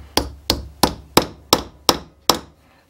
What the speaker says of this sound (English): use your pin hammer again.